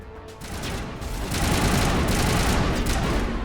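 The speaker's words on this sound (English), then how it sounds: "Ooh, that explosion got him." Explosions and a dense volley of rapid gunfire from a Mass Effect firefight against Geth, loud and continuous with sustained booming bursts throughout, no voices.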